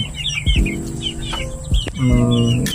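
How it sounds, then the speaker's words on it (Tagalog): Chickens cluck nearby in short bursts on a farm during feeding, with higher bird chirps scattered in the background. "Nagpapakain ako ng mga manok."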